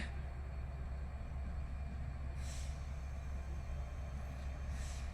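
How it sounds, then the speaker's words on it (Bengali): A small locomotive approaches at Parbatipur railway junction, heard as a faint, steady low rumble with occasional soft hissing swells, distant and without voices. "ওই ছোট ইঞ্জিনটা আসছে"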